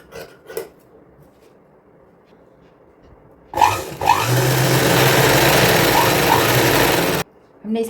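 A sewing machine stitches along both sides of a fabric strip for a young girl's outfit, running loud and close in one continuous whir for several seconds after a few brief handling knocks, with a moment of voice at the end.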